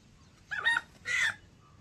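Chicken before a village sacrifice at a hill-god ritual, two short clucking calls in quick succession, clear and fairly near against a quiet background.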